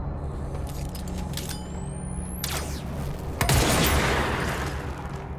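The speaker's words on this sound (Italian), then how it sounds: "se gli sparo la testa schiattano subito" Gunfire from the video game Control, with scattered shots against mouldy enemies over a low rumbling ambience, ending in a louder burst of impacts near the close.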